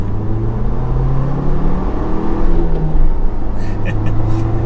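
A 2021 Ford Bronco Big Bend with a six-speed manual and turbocharged engine accelerates from inside the cabin, a steady loud engine rumble with rising and falling drone as it pulls through gears.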